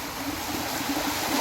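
Broad, steady roar of the three-tiered Katha Shawa waterfall in Muzaffarabad, Kashmir, with flowing water rushing constantly at moderate level for the whole moment, no voices.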